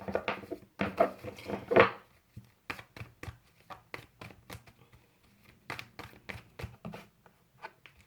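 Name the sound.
shuffling cards for an Aries reading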